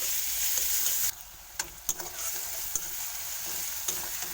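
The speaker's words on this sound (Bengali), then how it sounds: "রসুনটা ভালো করে ভাজা করবো নাহলে রসুন গন্ধ ছাড়বে" Garlic frying in hot oil in a pan for a fish dish, a continuous close sizzle with a few sharp stirring scrapes and taps, no talking.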